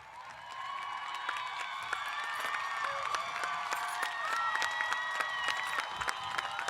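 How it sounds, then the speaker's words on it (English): A graduating class's commencement crowd claps and cheers in a dense, steady wash of applause with scattered whoops and shouts. The sound holds at an even, fairly loud level throughout. "Please keep cheering."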